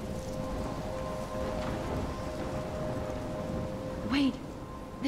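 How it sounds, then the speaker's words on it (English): Steady heavy storm rain pours down in the Life is Strange video game, a dense continuous hiss with a low rumble like distant thunder and a brief swell near the end. "I'm trapped in a storm?"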